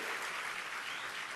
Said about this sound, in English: Let's start by clapping.